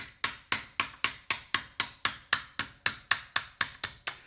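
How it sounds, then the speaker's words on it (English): A hammer strikes a pierced metal spatula turned on its side, about sixteen sharp, ringing metallic taps at a steady, brisk rhythm, loud and close with no talking. "So what we start to do is turn this on its side and hammer it on its side"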